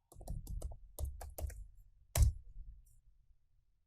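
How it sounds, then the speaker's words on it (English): Fingers type a sudo reboot command and password on a computer keyboard at an Ubuntu Linux machine: quick, close bursts of clicky keystrokes, then a single louder final key press before quiet. "Type sudo reboot because we need to have root privileges to be able to reboot the system"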